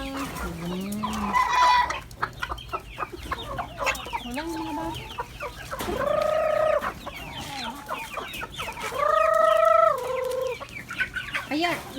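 Chickens being fed cluck and squawk close by, with a rooster-like call rising and several sharp hen calls over scratchy pecking noises; a person speaks briefly.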